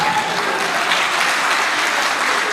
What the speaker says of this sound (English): Please, a hand of applause for them.